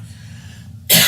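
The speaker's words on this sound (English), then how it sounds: "still can't get rid of this darn cough I've had since I've had out here" A man coughs once at the end, a single loud, harsh burst right after a quiet stretch of low room hum.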